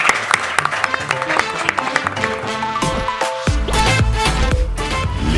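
Studio audience applause at the close of a Bordeaux property broadcast, a dense, sustained clatter of many hands that swells louder toward the end, with faint voices underneath.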